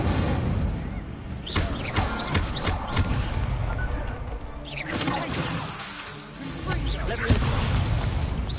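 An Incendio fire spell cast in Hogwarts Legacy bursts amid a busy, dense mix of crackling, shattering impacts and whooshing effects, loud and sustained, with a voice talking over the action.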